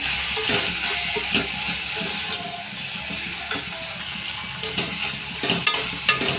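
Capsicum tomato curry with turmeric is stirred in a pan, loud continuous sizzling with scraping strokes and occasional clinks of the utensil against the pan.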